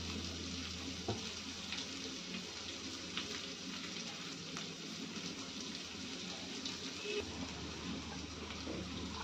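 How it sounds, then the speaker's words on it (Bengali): Chopped onions fry in a pan with whole cumin for a prawn malai curry, a steady soft sizzle and crackle running throughout with a few faint clinks, no one speaking. "এবার খানিকটা কুচিয়ে রাখা পেঁয়াজ আমি হালকা লাল করে"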